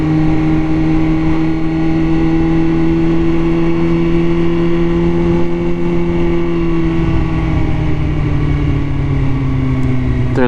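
A Kawasaki ZX14 motorcycle cruises at steady speed, its engine a loud, close, continuous drone with a slowly shifting pitch that dips slightly near the end; no one talks.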